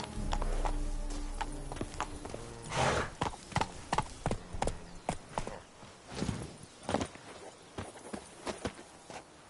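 Roach the horse from The Witcher 3 on PS5 moves along, hooves clip-clopping in a steady rhythm that turns uneven and louder partway through. The hoofbeats are close and clear, with no talk.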